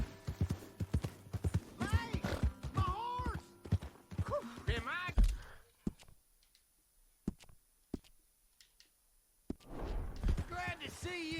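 Video game sound: rhythmic clip-clop of horse hooves on hard ground with a brief whinny, heard under talking voices, then a quieter stretch of scattered hoofbeats.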